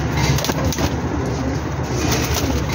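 Steady cooing of pigeons mixed with a constant broadband rush, like birds gathered close together, with no voices.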